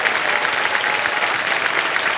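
Dense, steady applause fills a TV quiz-show studio at KBC, with an audience clapping loudly and continuously throughout the short stretch.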